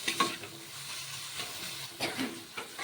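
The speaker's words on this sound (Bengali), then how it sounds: "টমেটোটা মশলার সাথে ততক্ষণ ভাজতে হবে যতক্ষণ না পর্যন্ত টমেটোটা ভালো করে সিদ্ধ হয়ে যাচ্ছে" Tomato fries with spices in a pan, making a soft, steady sizzle with a few gentle stirring scrapes at irregular intervals. No voices.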